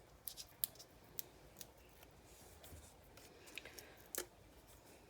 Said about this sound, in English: Take our scissors, just like that. Trim off that edge.